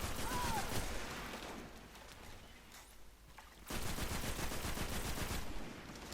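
A fusion rifle in the video game Destiny charges and fires in loud, dense bursts, the first burst fading into a quieter lull before a second sustained volley erupts, with faint game voices in the background.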